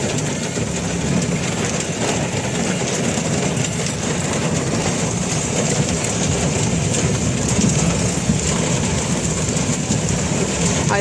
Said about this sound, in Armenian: Այստեղ կարկուտ է տեղում։